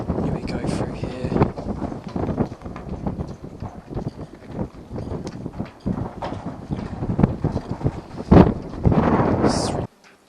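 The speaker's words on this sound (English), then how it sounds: "it's really windy now" Gusty wind buffeting close to the microphone on a sailboat, rumbling and roaring in surges, with a louder blast near the end.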